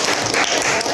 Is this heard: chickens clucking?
no